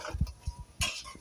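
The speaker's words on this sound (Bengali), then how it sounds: "এই যে সুন্দর করে নাড়াচাড়া করে দিচ্ছি।" A spoon stirs Chinese duck curry in a cooking pot, giving a handful of short scrapes and metallic clinks in an uneven rhythm, close and fairly quiet.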